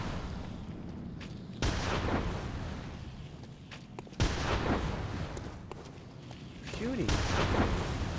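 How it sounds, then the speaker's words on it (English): Gunfire in the video game Bloodborne, a few heavy booming shots spaced several seconds apart, each with a long rumbling tail, while someone talks over them. "Shooting."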